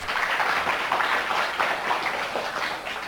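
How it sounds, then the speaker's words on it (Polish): Studio audience at a game show breaks into applause, a dense, continuous wash of clapping that stays loud and even across three seconds with no pauses. "Ale brawa ogromne!"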